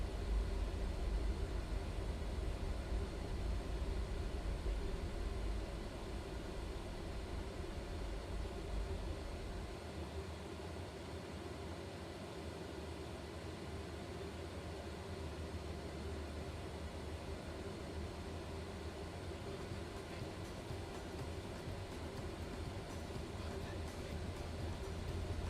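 Embraer airliner engines in a flight simulator game, a steady broadband cabin drone that holds at an even, moderate level throughout with no distinct events, and no talk.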